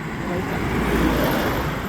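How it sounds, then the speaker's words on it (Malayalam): A scooter hums steadily past on the road, close and fairly loud, with constant engine and tyre noise. "പുറകെ വരുന്ന സ്കൂട്ടറാ"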